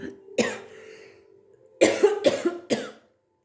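A burst of several harsh coughs close to the microphone, a short pause, then another quick string of coughs.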